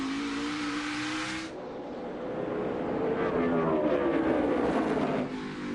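NASCAR stock cars race at Martinsville in a 2017 fall playoff race, a loud engine roar passing close then fading into a sustained, rising drone of several cars bunched together.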